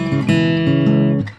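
Acoustic guitar playing a short hill country blues riff variation, a few plucked notes with a quick slide, close and clear with no talking.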